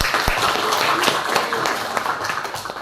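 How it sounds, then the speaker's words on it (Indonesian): Students in a classroom clap for a presenting student group: a dense, busy patter of hand claps lasting about three seconds, with some voices mixed in. "Kasih tepuk tangan kelompok 2."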